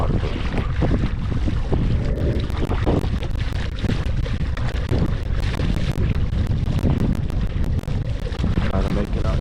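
Strong wind buffets the microphone out on a small fishing boat in coastal creeks, a loud, continuous gusting roar with the boat's engine and water noise underneath throughout.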